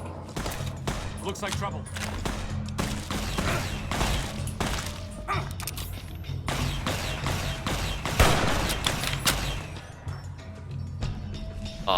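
Laser Tommy guns fire in Fallout New Vegas, a dense, continuous barrage of crackling shots and impacts over a busy combat mix, with a brief spoken line partway through.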